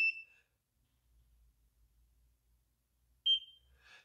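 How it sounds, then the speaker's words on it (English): Two short, sharp electronic beeps from a NERA anti-aging laser device, one at the start and another about three seconds later, separated by near silence with faint low rumble. "So when you apply the device correctly, you'll hear a beep."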